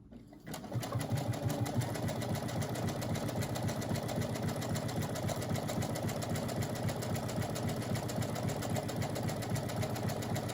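Sewing machine stitching fabric with white thread, starting after a brief pause and then running in a steady, fast, buzzing whir of needle strokes, close and continuous to the end.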